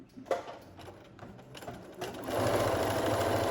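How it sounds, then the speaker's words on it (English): A sewing machine stitches down the edge of a lightweight towel to finish a French seam; a few short taps give way to a steady, loud mechanical whir running close by, with no voices. "just sew down the edge, finish that French seam"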